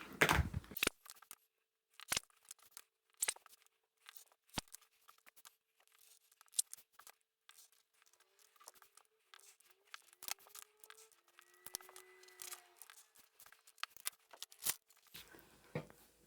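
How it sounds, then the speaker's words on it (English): Fabric scissors make quick, crisp snips and short trimming cuts in bursts around a curved seam on a sewing project, close and clear in a quiet room. "trim around the curve here and then snip into the curve, but not through the stitching line"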